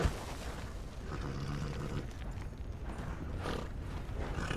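A horse gallops in Red Dead Online, a dense rumbling patter of hooves under a loud, low game soundscape, continuous and close.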